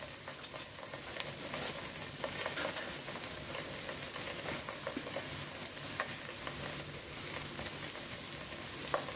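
Ginger garlic paste sautés in a pan for a dhaba-style paneer methi dish, a steady, faint, continuous sizzle with scattered small stirring ticks that lasts the whole stretch, with no voices.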